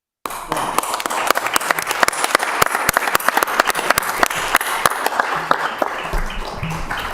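An audience at a city council meeting breaks into a burst of dense, sustained applause from many hands in a large room, loud and continuous before tailing off at the end.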